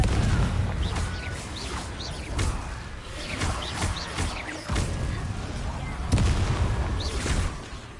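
Confringo fire spells burst repeatedly in Hogwarts Legacy on PS5, a steady series of loud booming blasts over a rumbling background, with bird-like chirps scattered throughout.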